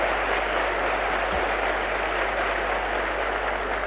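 An audience at a church congress gives a steady, dense wash of applause that carries on evenly throughout, heard from a distance over a low electrical hum.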